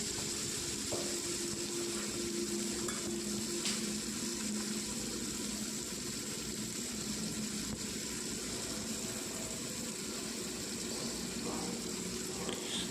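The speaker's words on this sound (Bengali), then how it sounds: "পেঁয়াজগুলোকে একটু হালকা ভেজে নেব।" Sliced onions fry lightly in a pan of hot oil for a chicken curry, giving a steady, even sizzle and hiss that holds throughout with no voices over it.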